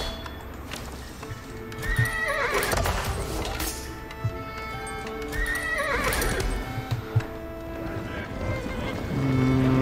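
Horses in Age of Empires IV neigh twice in loud, whinnying bursts, with clip-clopping hooves and busy battlefield ambience around them.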